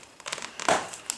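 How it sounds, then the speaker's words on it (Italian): Packing tape peeled and crinkled off the box of a CM Storm Havoc gaming mouse, a few short close crackling rips building to one louder tear, with no talking. "togliamo il nastro e"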